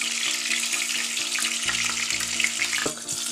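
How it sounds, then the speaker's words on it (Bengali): Hot oil poured slowly over tilapia fish frying in a pan gives a dense, steady sizzle up close, with a faint low hum underneath and a brief clink near the end. "এভাবে আস্তে আস্তে দিবেন, দেখবেন তেল, গরম তেলটা দিলে মাছের ভিতরে গিয়ে তেলটা ডুববে।"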